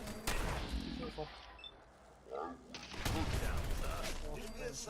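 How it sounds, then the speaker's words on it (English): Gunfire in the video game Fallout 4, several sharp shots and bursts that vary in loudness, interspersed with mechanical clatter, while a person talks over the action. "Someone is shooting at us."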